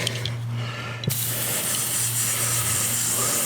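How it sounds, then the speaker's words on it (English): WD-40 sprayed onto dry, greenish rubber wiper blades of a Honda Civic Type R FN2, a steady close hiss running almost continuously with a brief break near the start. "I'm going to use some WD-40, which I've never tried before, but apparently this is how to do it."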